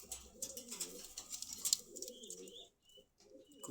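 Pigeons coo in a bird market in Khilgaon, Dhaka, with soft throaty calls and a few chirps sounding close by over low background chatter.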